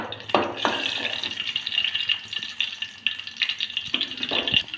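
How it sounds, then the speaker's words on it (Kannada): Garlic sizzles in hot oil for a bisibele bath tempering, a close, continuous frying hiss broken by a few sharp stirring scrapes and clatters. "ಎಣ್ಣೆ ಬಿಸಿ ಆದಮೇಲೆ ಸ್ವಲ್ಪ ಬೆಳ್ಳುಳ್ಳಿನ ಹಾಕ ಹಾಕಬೇಕು"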